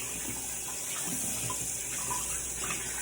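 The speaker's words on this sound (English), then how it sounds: "rubbing the soap with cold water on my hands" Cold tap water runs steadily into a sink while hands are rubbed with soap, a soft continuous hiss and trickle at low, even level with faint splashes.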